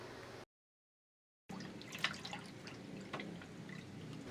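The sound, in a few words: straining kutsinta batter through a sieve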